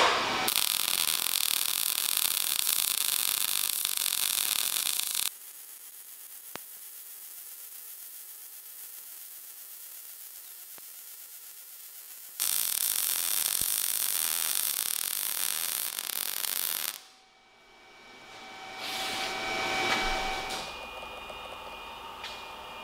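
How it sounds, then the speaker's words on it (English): A cheap MIG welder running on its full power setting lays down a long continuous weld, a loud steady buzzing hiss that stops abruptly, falls quiet, then resumes for another stretch before cutting off. "that was a weld on full blast"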